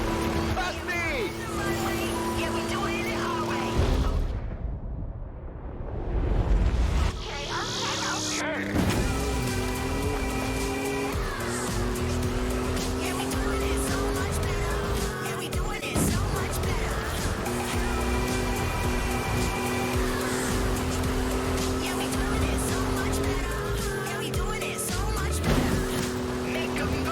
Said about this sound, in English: Here we take control of the 2021 Ford Bronco Badlands